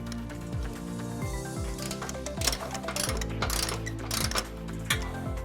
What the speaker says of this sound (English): Now we're going to tighten and torque all of our bolts to the manufacturer specification. We're going to be using a 19mm socket